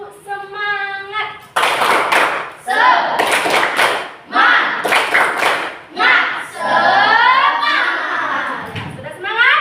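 Schoolchildren perform a rhythmic spirit clap led by their teacher, loud bursts of patterned claps alternating with children chanting and a voice between the beats, close and lively.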